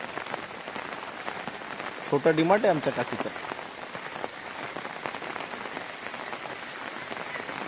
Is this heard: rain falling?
yes